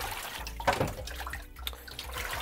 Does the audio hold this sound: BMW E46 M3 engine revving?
no